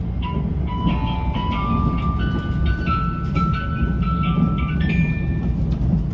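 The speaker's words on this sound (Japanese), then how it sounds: "鉄道唱歌のオルゴールが鳴りね、まもなく列車はね、新見駅に到着いたします" A music box chime plays the Tetsudo Shoka melody aboard a limited express Yakumo train approaching Niimi station, its clear tinkling notes rising over the loud steady rumble of the moving train.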